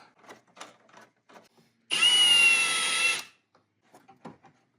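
A power tool runs on a 7mm ring clamp on the intake of a Cadillac Escalade Sport Platinum 6.2L V8. It whirs loudly and steadily for just over a second, with faint clicks and handling noises before and after.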